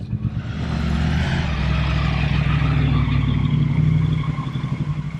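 A shop-built chrome Triumph Speedmaster with a 1200cc engine running, a loud, close, deep throbbing idle with a lumpy pulsing beat that swells slightly and holds steady throughout.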